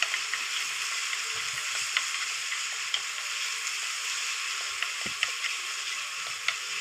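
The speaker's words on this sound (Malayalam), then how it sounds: "ആ ഇഞ്ചിയുടെയും വെളുത്തുള്ളിയുടെയും പച്ചക്കുത്ത് മാറുന്നവർക്ക് നന്നായിട്ടൊന്ന് ഇളക്കി കൊടുക്കാം" Ginger and garlic frying on a low flame with curry leaves in a pan, a steady close sizzle with scattered scraping stirs throughout, no voices.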